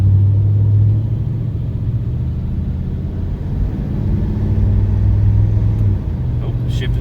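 A 1986 Oldsmobile Cutlass revived from a junkyard, driven up and down a street: a steady, low engine rumble with a droning tone that fades and returns, fairly loud and continuous throughout.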